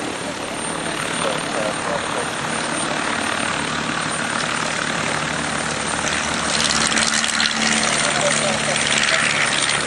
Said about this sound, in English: the famous de Havilland Moth Miner, one of the classic de Havilland designs